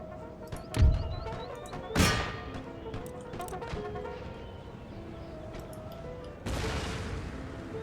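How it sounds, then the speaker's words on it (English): Puckle guns firing in Empire: Total War, sharp booming reports with a few heavy thumps and scattered crackling shots, a burst of rushing noise near the end, with no talk over it. "And there go the puckle guns,"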